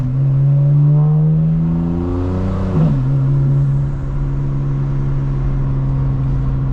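A 2025 BMW M4 Competition xDrive with crisp-shifting transmission revs hard under acceleration, the engine note climbing then snapping down through a quick gear change before settling into a steady drone, loud and close from inside.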